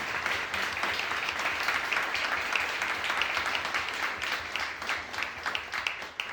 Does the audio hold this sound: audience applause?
yes